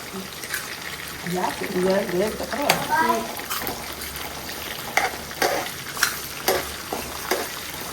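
Curry leaves and onion fry in hot oil for a cluster bean and dried fish curry, a steady close sizzle broken by scraping stirs, while someone talks over the cooking.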